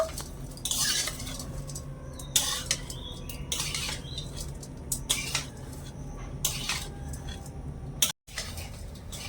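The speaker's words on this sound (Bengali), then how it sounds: "ভালো করে মিশিয়ে নেব" A spoon stirs a wheat-flour snack in a bowl, making repeated close clinks and scrapes against the bowl in an uneven rhythm, with a brief drop to silence near the end.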